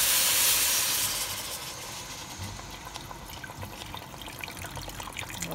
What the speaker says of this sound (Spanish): Yo le agregaré el agua ahora.